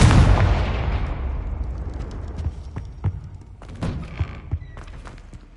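A Confringo blasting curse goes off as a loud, close explosion: a heavy broadband boom that rolls off into a rumbling tail, followed by scattered sharp crackles and thumps.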